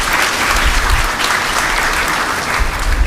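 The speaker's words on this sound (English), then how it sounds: "Can we give TUT a round of applause" A graduation ceremony audience gives a loud, sustained round of applause for TUT, many hands clapping in a thick continuous roar that stays level from start to finish.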